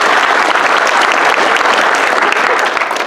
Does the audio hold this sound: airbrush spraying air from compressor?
no